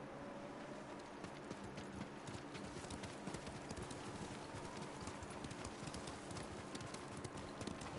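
Horse hooves clip-clopping in Ghost of Tsushima, a steady run of hoofbeats at moderate volume over continuous game ambience, with no talk.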